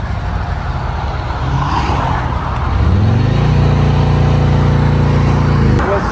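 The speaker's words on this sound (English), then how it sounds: "everything powered up and the bike fired up, no problem" A 2024 Harley Street Glide motorcycle fires up after a battery swap, cranking for a moment before catching into a loud, steady idle that holds close up and stops abruptly at the end.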